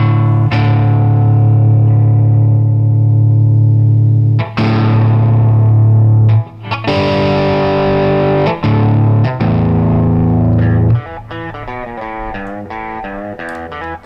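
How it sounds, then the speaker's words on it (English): Heavily distorted electric guitar playing a heavy blues backing track in E, loud sustained chords ringing out and then breaking into shorter, choppier notes, with no talking. "Heavy blues backing track in E."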